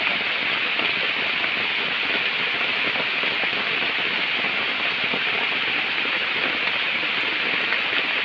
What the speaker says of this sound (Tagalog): Naghihintay na tumila ang ulan mga Pinoy.